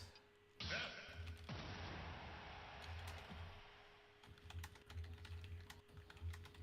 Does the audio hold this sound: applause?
no